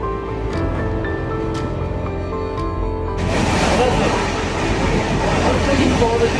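A passenger train in monsoon season rumbles steadily along its rails, a quiet tonal hum at first giving way to a louder, rougher rolling roar after a few seconds, continuous throughout with no talk.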